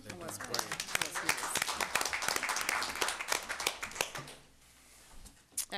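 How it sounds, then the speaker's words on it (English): Sustained applause from a crowd, dense rapid clapping that fades out after about four seconds, followed by a brief quiet pause. "another round of applause"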